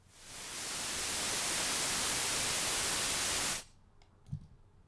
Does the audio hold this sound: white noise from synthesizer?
yes